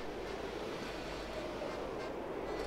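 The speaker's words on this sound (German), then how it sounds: "Und jetzt pustet der Wind aus zwei Richtungen hier rein." Wind gusting steadily through the open world of the video game Zelda: Breath of the Wild, a constant airy roar with no breaks that holds at an even level throughout.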